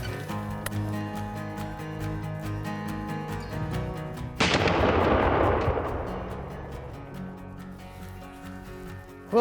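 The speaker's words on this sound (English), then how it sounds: "The only thing left to do is to shoot this shotgun and make sure it's holding a good pattern." A shotgun fired once outdoors at about 30 to 35 yards to test its pattern: a single sharp loud blast midway with a decaying rumbling tail, over a steady background hum.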